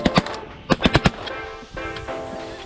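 Shotgun blasts during a snow goose hunt: two quick shots, then a rapid burst of four close, loud reports, followed by fading echo and faint background noise.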